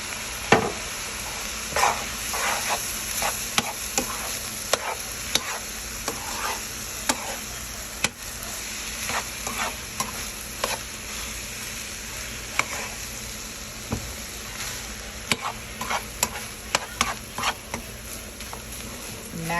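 Rice frying in coconut aminos for homemade hibachi sizzles steadily while a spatula stirs and taps against the pan in frequent sharp scrapes, with occasional soft speech in the background.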